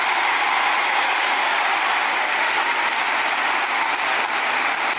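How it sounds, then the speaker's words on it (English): A large crowd cheers and applauds in a dense, continuous roar that holds steady at full volume, then cuts off abruptly at the end. "And the crowd goes wild."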